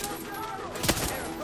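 Gunfire in the shooter video game Far Cry 6 produces one sharp, loud burst near the middle over a continuous background of in-game noise.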